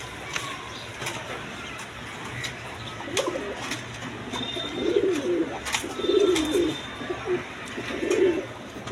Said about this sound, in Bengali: এখানে এক পেয়ার সিরাজি কবুতর আছে, দেখেন রেড কালারের মধ্যে